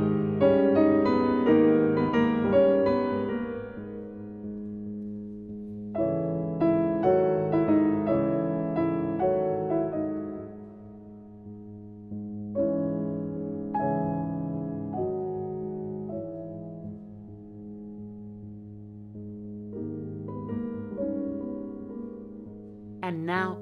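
Solo piano plays a passage from Mussorgsky's Pictures at an Exhibition in several soft phrases separated by brief pauses, each chord gently struck and left to decay.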